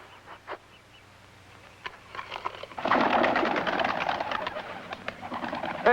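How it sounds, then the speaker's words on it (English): Pigeons kept on a rooftop coo softly at first, then a louder, denser stretch of cooing and rustling takes over for the last few seconds. "I was practicing with my pigeons."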